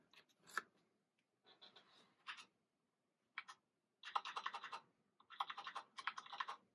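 Typing on a USB keyboard plugged into a 2015 13-inch MacBook Pro: quiet, close bursts of rapid key clicks in irregular clusters, with short pauses between the runs.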